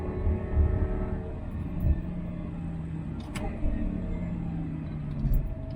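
Audi R8 V10 with a manual gearbox lapping a wet track, its engine a low in-car rumble that swells and eases with the throttle, with no talk.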